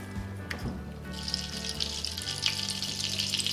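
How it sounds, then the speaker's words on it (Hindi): Gram flour (besan) dry-roasting in a pan over a medium flame, giving a steady soft sizzling hiss with faint scraping of stirring, continuous and close with no talk. "बस 5 मिनट ही हमने इसको भूनना है, मीडियम फ्लेम पे मैंने इसको भूना है।"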